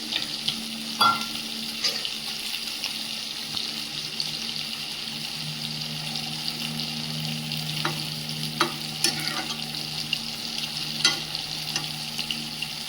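Fried fish pieces go into a simmering curry in a pan and get stirred, with a steady close sizzle and bubbling broken by several sharp scrapes and knocks of a spatula; no one talks.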